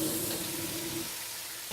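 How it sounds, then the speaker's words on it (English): Organic bok choy stir-frying in a very hot wok over high flame, a bright, dense sizzle and hiss with a steady hum beneath, tapering slightly over its short span. "We're gonna just do a simple stir fry with some organic bok choy."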